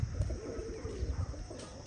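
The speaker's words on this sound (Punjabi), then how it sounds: "ਇੱਕ ਕਬੂਤਰ ਉਹ ਸਾਹਮਣੇ ਕੋਠੀ ਤੇ ਬਹਿ ਗਿਆ" Low, soft pigeon coos repeat in a murmuring rhythm, fairly close, against a steady background hum with no talking.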